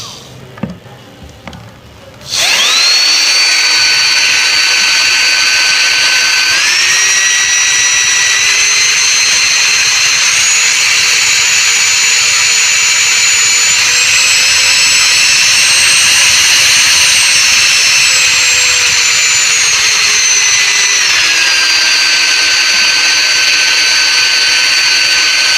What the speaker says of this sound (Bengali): দেখতে পেলেন 772 মোটরের কি প্রচণ্ড স্পিড